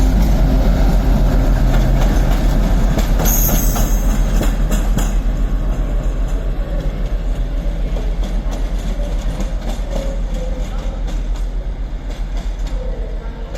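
Class 56 locomotive 56051 passes at Crewe on the West Coast Main Line, a loud, heavy low diesel rumble with rolling wheel clatter that slowly fades as it goes by.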